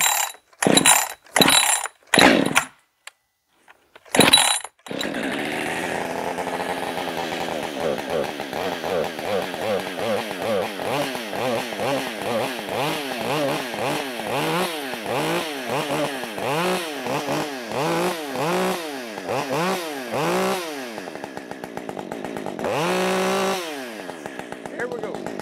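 A chainsaw fitted with a filed race chain revs in quick, rhythmic pulses as it bites through wood, loud and close. A few sharp bursts come first, then a sustained cut of about twenty seconds.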